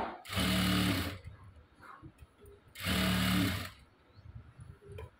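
A sewing machine stitches a blouse in two short, loud bursts of rapid mechanical whirring, separated by a quiet pause with faint handling noises.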